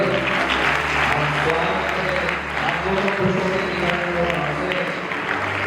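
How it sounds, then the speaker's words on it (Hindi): Wedding guests at Suraj and Pooja's marriage ceremony clap for the couple, a steady, dense crowd applause lasting throughout with a voice murmuring underneath. "इन दोनों को भी ताली बजाकर"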